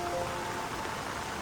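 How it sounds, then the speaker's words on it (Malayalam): Heavy rain pours steadily at a forest resort in Munnar, a dense, continuous wash of water noise with no breaks and no voices. "നല്ല പൊരിഞ്ഞ മഴയാണ്."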